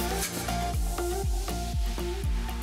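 A utensil scrapes rhythmically around a pan of boiling milk on medium-high flame, about five strokes at a steady pace, over a continuous bubbling simmer, close and moderately loud.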